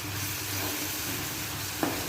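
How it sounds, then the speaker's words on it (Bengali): Masala spices fry and sizzle in oil for a dhaba-style egg masala, giving a soft, continuous hiss with one brief clink of a utensil near the end. "দেখুন আমার মশলা ভাজা হয়ে গেছে।"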